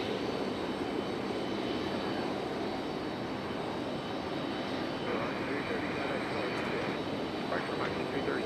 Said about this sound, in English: Another little United Express. A little E-175. About to touch down here finally.